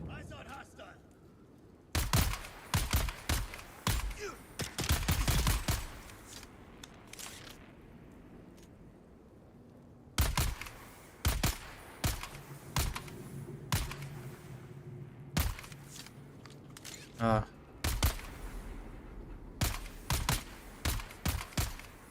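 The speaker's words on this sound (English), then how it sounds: "Rifle can't shoot that far." Rifle fire in the survival game Dune Awakening: sharp bursts of shots crack out in clusters, some in rapid strings and others spaced apart, with thuds and brief gaps of quieter ambience between volleys.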